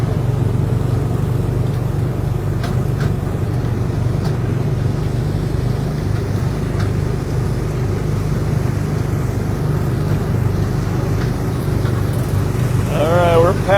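Ride cars with engines on the Tomorrowland track at Magic Kingdom make a steady, continuous engine drone, with people talking over it throughout.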